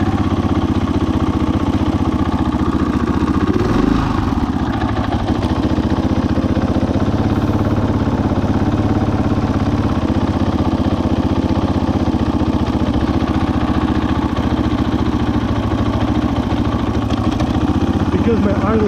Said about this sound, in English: Because my idle is so low right now, that's why it's doing the hitch.